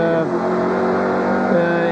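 Touring cars at Phillip Island roar past during an ATCC race as one brakes hard and goes off the track; a loud, continuous engine note wavers and drops in pitch, with a commentator talking faintly underneath.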